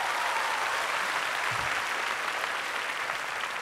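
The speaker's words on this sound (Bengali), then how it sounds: "ঈশ্বরকে একটা জোরে হাততালি দিন" A large audience at a Christian preaching event in India claps loudly together in a dense, continuous burst of applause lasting a few seconds, with no speech over it.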